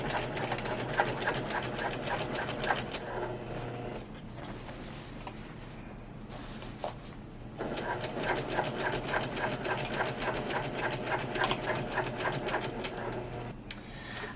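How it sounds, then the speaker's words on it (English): A sewing machine stitches a quilted shoulder bag in rapid, even mechanical bursts, pausing briefly between runs and then resuming, close and steady. "I'm just going to sew that really quick just to ensure nothing shifts before I move on to clipping the other side."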